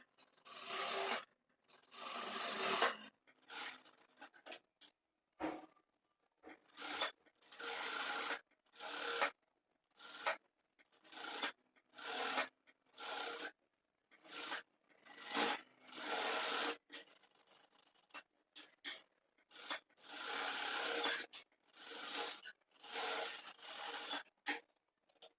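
A sewing machine stitches lining onto saree fabric for a designer dress, running in many short loud bursts of whirring with brief pauses between them and no talk.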